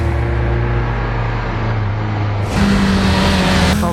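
A 2021 BMW S1000XR motorcycle engine pulls hard in dynamic mode, a loud, sustained, close-up howl that climbs in pitch, drops briefly at a gear change, then surges again.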